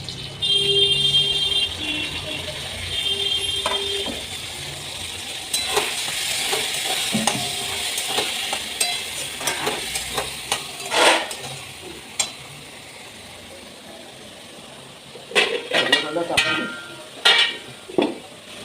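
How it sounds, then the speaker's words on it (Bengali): A spice paste of ground ginger, salt, turmeric, chilli, cumin and coriander is sautéed for Bhetki fish curry, with a low sizzle broken by intermittent scraping stirs and clinks of a utensil against the pan. "মশলাটা কষানো হবে"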